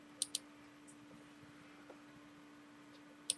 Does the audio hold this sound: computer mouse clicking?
yes